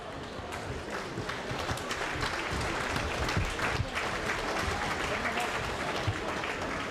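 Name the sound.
audience applause at a political rally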